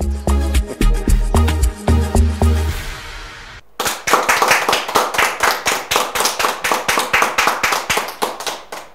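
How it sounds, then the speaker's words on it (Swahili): Rhythmic clapping in a studio, sharp hand claps laid over a thumping musical beat at first, then after a short gap a steady run of loud, evenly spaced claps about every half second. "no igwa hau rito wa makofi"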